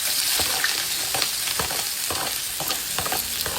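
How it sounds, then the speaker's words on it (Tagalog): Onions sautéing in oil in a pan while Kapampangan dishes are being cooked, a steady close sizzle with intermittent scraping and stirring clicks throughout, no talk. "Iusan muna natin ang sibuyas."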